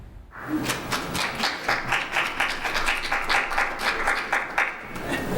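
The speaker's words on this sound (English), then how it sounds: "the applause is really justified more for you guys" An audience claps after a community presentation, a steady, dense round of applause starting abruptly and holding at an even level for several seconds.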